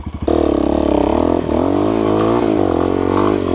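A KOVI Advance 250 enduro motorcycle on bald tyres holds a loud, steady engine drone after a brief low sputter, the tone wavering slightly as the throttle shifts, heard up close with no talk.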